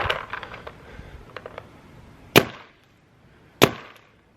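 A DLX Luxe OLED carbon fiber paintball marker firing: two loud, sharp, close pops a little over a second apart, each with a short decay, following a run of faint mechanical clicks.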